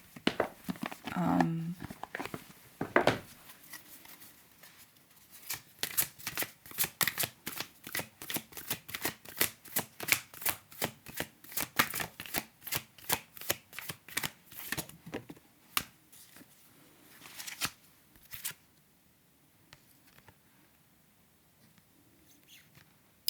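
Oracle cards are shuffled by hand in a quiet room, giving a long run of quick, crisp papery riffles in close rhythmic bursts that slow and thin out toward the end.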